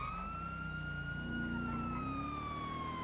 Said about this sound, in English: Oh, this siren's got to go.